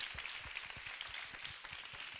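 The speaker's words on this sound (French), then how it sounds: "Est-ce qu'on peut les applaudir, Jacquesville?" A show audience claps for the Jacquesville finalists, first-time participants, in a steady, fairly faint wash of applause with a soft low thudding running through it.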